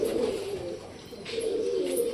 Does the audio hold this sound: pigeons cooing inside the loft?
yes